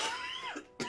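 A single adult gives a short, sharp cough near the microphone, a brief burst at the very end after a moment of voiced sound.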